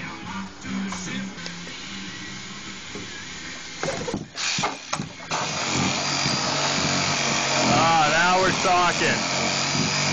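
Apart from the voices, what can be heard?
sawzall reciprocating saw cutting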